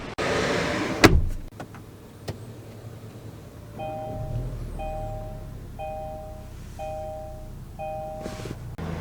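Someone gets into a 2022 Kia K5 GT: a door thuds shut, then a chime pings in an even repeating pattern over a low, quiet cabin hum.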